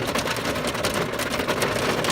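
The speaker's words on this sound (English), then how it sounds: "Oh, guys, hail." Hail pelting down during a severe thunderstorm, a dense, steady clatter of impacts that fills the whole clip at close range, with no voices.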